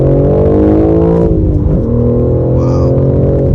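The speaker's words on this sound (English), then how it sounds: "good God, this thing just takes off" A 2022 BMW M4 accelerating from the driver's seat, with a loud, steady engine drone whose pitch shifts through the run, heard close and unbroken, no speech.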